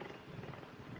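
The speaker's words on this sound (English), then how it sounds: "cheetahs don't roar, they purr?" A cheetah purring, a low, rumbling, continuous vibration, faint and steady with no pauses.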